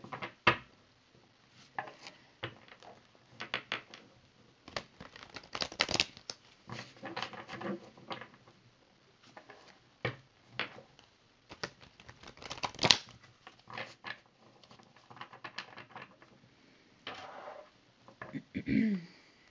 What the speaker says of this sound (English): I'm just going to shuffle these a minute,